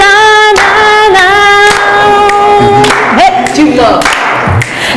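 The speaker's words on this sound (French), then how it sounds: "applaudissez maintenant" An audience claps along in a steady beat to the gospel song "Oh Happy Day" under loud singing, with a voice speaking briefly.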